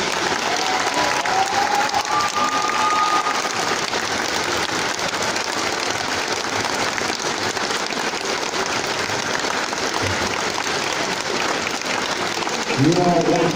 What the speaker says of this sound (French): Je vous propose de faire un tonnerre d'applaudissements encore